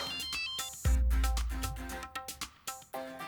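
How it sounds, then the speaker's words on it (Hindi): A mobile phone ringtone plays a bright, melodic electronic tune for an incoming call, with a booming low hit partway through followed by short repeated stabbing notes, fairly quiet overall and with no talking. "फोन आ रहा है"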